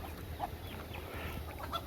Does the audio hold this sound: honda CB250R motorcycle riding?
no